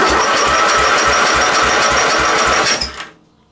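A small, very rusty scrapyard mower engine cranks over during a compression test, giving a fast, even chugging pulse for about three seconds before it abruptly stops, loud and close.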